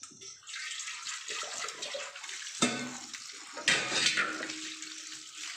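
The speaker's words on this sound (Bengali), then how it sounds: "এবার বেসিনের তলায় ঠান্ডা জলে দিয়ে দেবো।" Cold tap water runs steadily into a sink basin while boiled chow mein is rinsed under it. The close, hissing splash swells twice with brief surges of water hitting the noodles.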